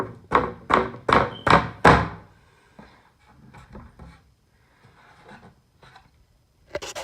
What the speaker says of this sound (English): Now all we have to do is just slide it in.